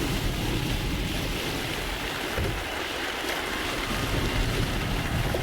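Rushing white water surges down an Olympic kayak slalom course during the 2024 final round, a dense, unbroken roar of churning water with no voices.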